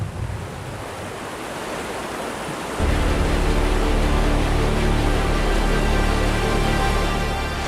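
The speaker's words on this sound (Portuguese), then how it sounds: "o rugido distante da água anuncia o próximo desafio" A continuous broadband roar of the Mara River's rushing water, then at about three seconds it jumps much louder and deeper, a heavy steady rumble.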